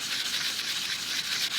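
Blade being sharpened on fine sandpaper, a close, steady hissing scrape of rapid back-and-forth strokes, alone with no talk.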